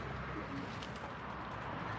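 Domestic racing pigeons coo at their loft, a low, continuous murmuring burble heard at a steady level, with faint higher chirps over it and no one speaking.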